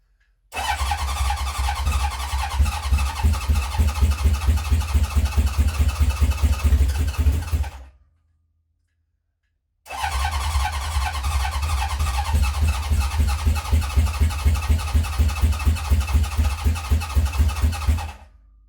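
A 1970 Honda CB750 K0 motorcycle, sitting unused for decades, fires up with its choke on and runs roughly for about seven seconds, goes quiet, then starts and runs raggedly again, loud and close.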